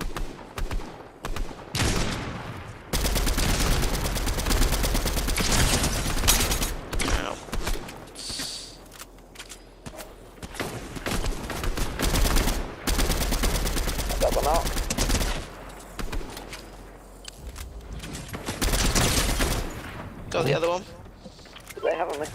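Rapid bursts of automatic gunfire from a Fortnite match crackle through most of the stretch, loud and sustained with brief pauses, while players talk over the shooting.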